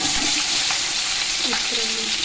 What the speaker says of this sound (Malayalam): ഇനി ഉള്ളി ഇട്ട് കൊടുക്കട്ടെ